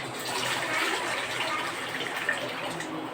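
Water runs steadily into a pot from a tap to cover large flowers being cooked, a continuous close gushing rush with no talk.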